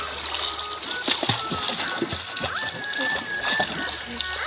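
Water splashes and sloshes as people bathe at a river swimming spot in Pinugay, Antipolo, Rizal, a steady wet churn with sharper splats, while voices talk and call out over it.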